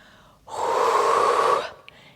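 One long forceful exhale during a Pilates exercise with dumbbells, a breathy rush of air lasting about a second, close and alone.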